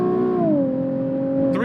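Naturally aspirated 3.7-liter V6 in a Nissan 370Z NISMO revs steadily, its tone sliding down and settling into an even hum, close and loud throughout.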